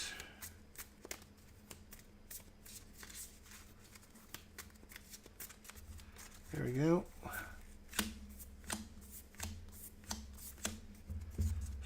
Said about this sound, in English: We'll shuffle up his deck.